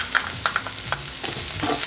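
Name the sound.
onions and garlic frying in a pan for pork stew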